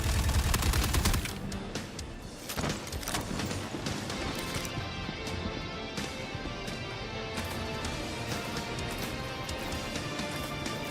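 Rapid gunfire in the video game Star Citizen, loud bursts at the start followed by continuous crackling shots and impacts in the mix throughout.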